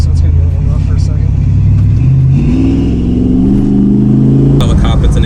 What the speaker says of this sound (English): Now I'm going to downshift, so it's going to be a little rough for a second.